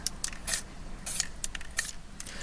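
Plastic primer sprays from an aerosol can onto a car steering wheel in a series of short hissing bursts, about six quick sprays in close succession.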